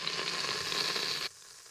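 Beef sears in an Instant Pot with a bright, steady sizzle that cuts off abruptly partway through, leaving quiet room tone.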